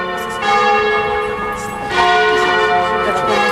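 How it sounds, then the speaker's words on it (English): Several church bells peal together, strikes overlapping into a bright, resonant clangor that swells and keeps ringing. "bells are going off."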